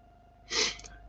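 One quick sneeze, a sharp, breathy burst lasting about half a second with a softer trailing puff, close by and fairly quiet in an otherwise still room.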